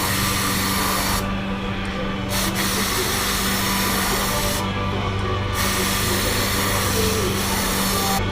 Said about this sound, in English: Just hit it with some cleaner here.